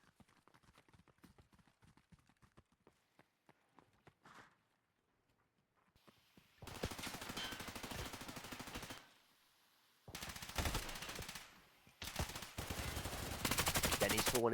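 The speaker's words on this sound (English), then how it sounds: "shots ringing out from the MCX in the background" Bursts of automatic rifle fire from an MCX in a competitive tactical shooter match, long sustained loud volleys separated by brief pauses, preceded by quieter scattered footsteps and distant shots.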